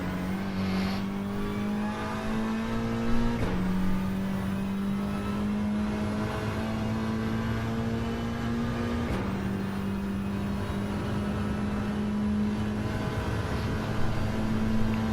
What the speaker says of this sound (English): Looks like Jimmy just over revved fourth gear there, and so just lost a bit of momentum